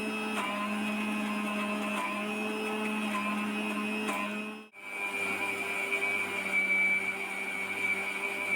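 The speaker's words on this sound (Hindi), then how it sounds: "अदरक और लहसुन मैंने पीस लिया है" A mixer grinder grinds ginger and garlic into paste with a loud, steady motor whine, cuts out briefly around the middle, then restarts and runs on just as loudly.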